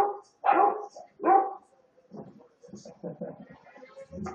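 Two lively dogs barking outdoors in freezing weather, a few loud close barks and yips mixed with a person talking nearby.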